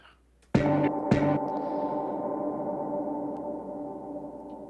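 A punchy kick drum sample hits twice in quick succession, then rings out into a long, sustained tonal tail that slowly fades, heard alone with no talking.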